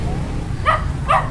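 A dog outside a house in Naga City, Philippines, gives two short barks about half a second apart, moderately distant, over steady low background noise.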